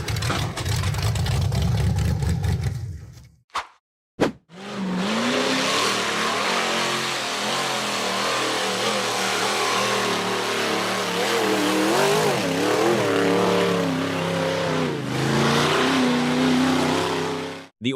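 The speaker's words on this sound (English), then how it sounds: "The off-road buggy accelerated hard up a steep, rocky dirt slope" An off-road buggy climbs a steep, rocky dirt slope in a forest, its engine revving hard and loud. There is a brief cut near the start, then sustained roaring acceleration with wavering pitch as it strains over rocks.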